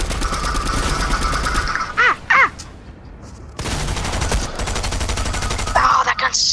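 Gunfire in the video game Fortnite, two loud rapid bursts of shots separated by a short pause, with sharp shrill effects in between and a final burst near the end.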